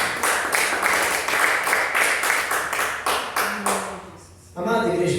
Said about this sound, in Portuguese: louve e exalte o Senhor com palmas bem alegre para Jesus